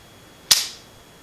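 A single sharp metallic click as a .45 Auto Rim cartridge drops into the cylinder of a 1923 Enfield-made Webley Mk VI revolver, close and crisp against a quiet background.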